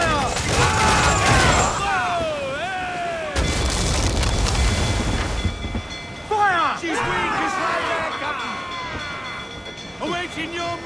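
Heavy booms of ship cannons firing in Assassin's Creed IV: Black Flag during a naval battle, deep rumbling blasts amid whistling, swooping effects and shouted voices over continuous loud action.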